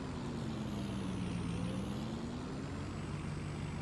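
Big 450 tractor in Farming Simulator 19 hauling a heavily loaded trailer, a continuous low engine drone with a slowly shifting tone and steady noise, no talk.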